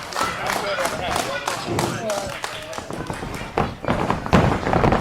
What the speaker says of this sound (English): Quit your clapping!